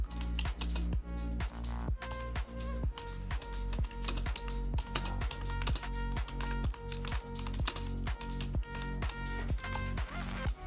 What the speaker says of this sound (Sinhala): දැන් මම මෙතන ටයිප් කරන්නම්.